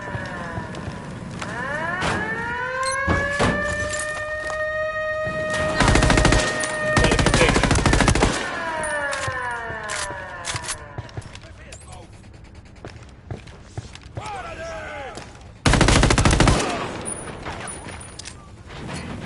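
Gunfire in the Ghost Recon video game: loud bursts of automatic weapon fire and single shots crack in bursts, mixed with mechanical clanks, whooshing sweeps and radio-style game chatter.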